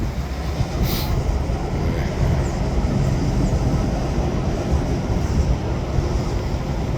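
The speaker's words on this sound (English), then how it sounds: "Another boring rack train heading to Queensboro soon" A SkyTrain rack train bound for Queensboro rumbles past, giving a steady, loud, broadband roar with low rail noise throughout and no distinct breaks.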